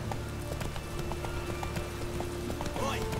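A horse gallops in Witcher 3, its quick rhythmic hoofbeats steady and close, accompanied by faint game ambience and a brief whinny near the end.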